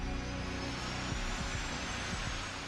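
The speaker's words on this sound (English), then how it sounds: "A shot of triethylborane gas ignites the fuel, and the J-58 engines are started." J-58 jet engines starting up with a triethylborane ignition: a steady, loud broadband roar and whine that holds constant throughout, with no voices.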